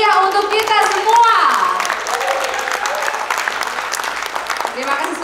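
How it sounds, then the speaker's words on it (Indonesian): A crowd applauds steadily at an evening awards ceremony in Bali, a dense wash of clapping that stays loud throughout, with a few voices calling out over it. "mohon tepuk tangan yang meriah untuk kita semua."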